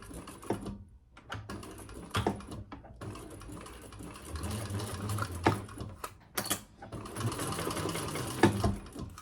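A sewing machine stitches a modified crossbody bag, running in bursts with short pauses between runs, close and steady with a mechanical whir.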